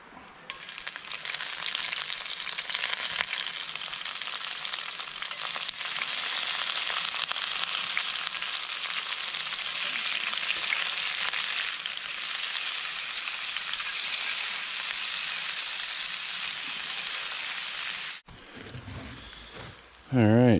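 Oil heating in a cast-iron pan over a camp stove in the woods, a steady loud hissing sizzle held for about eighteen seconds before it cuts off and a few brief rustles and knocks follow.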